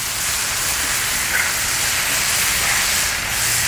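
Bacon sizzles on a Blackstone griddle, a loud, steady, close hiss that runs unbroken from start to finish with no talking.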